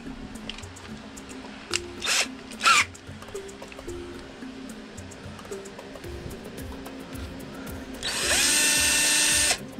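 A small 0.5 mm drill bit whirs in brief bursts drilling a model ship, then runs steadily at high pitch for a couple of seconds near the end.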